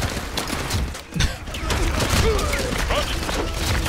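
Dense bursts of automatic gunfire in Modern Warfare 2 Remastered, a loud, continuous fusillade of rapid shots that dips briefly and then resumes, with clipped voices faintly mixed in.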